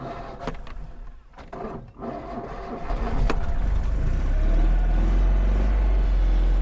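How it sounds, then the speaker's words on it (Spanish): A Citroën Ami 6's air-cooled two-cylinder engine idles with a low, throbbing rumble, then catches a few clicks and knocks before rising into a louder, steady drone that holds close and continuous to the end. "Suena parecido a las BMWs Boxer de 2 cilindros."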